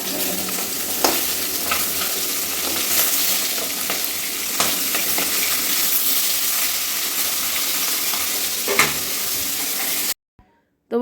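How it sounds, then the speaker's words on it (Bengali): Pieces of pointed gourd (potol) fry in hot oil, giving a steady close sizzle with occasional stirring scrapes for about ten seconds before cutting off abruptly. "বন্ধুরা দেখো ভালো করে পটলগুলো ভেজে নিচ্ছি"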